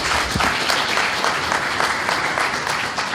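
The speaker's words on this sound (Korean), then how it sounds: "소개할 때마다 힘찬 환영의 박수를 부탁드리겠습니다" Welcoming applause from a crowd at a Democratic Party convention in Busan, dense steady clapping filling the hall for about three seconds without a break.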